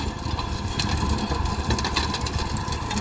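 A New Holland 3630 tractor running a rotavator in a field, its engine and the churning, rattling rotavator making a loud, steady drone throughout.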